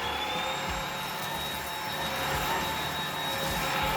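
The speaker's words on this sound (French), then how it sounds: "Alors je force pas sur l'aspirateur, hein, je le pousse et je le ramène simplement pour qu'il puisse travailler correctement." A Dibea D18 cordless vacuum cleaner runs on short-pile carpet with a steady, loud motor whine and airflow hiss, pushed and pulled back and forth with faint low rumbling from the carpet.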